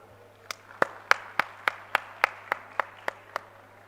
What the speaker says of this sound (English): Can we have a huge applause for our chair, Professor Mrityunjay Swar?